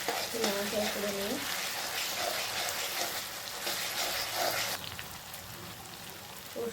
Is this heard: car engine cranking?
no